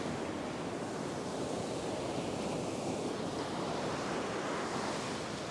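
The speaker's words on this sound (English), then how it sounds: "When the set waves come in, they are certainly pretty formidable" Ocean surf breaking on a beach during a fishing session, with a swell of around a metre; a steady, dense wash of waves rolls in continuously with some wind noise, and no voices.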